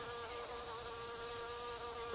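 Hoverflies, or flower flies, hover in place with a continuous high, even buzz of rapidly beating wings, close and steady with no pauses and no voices.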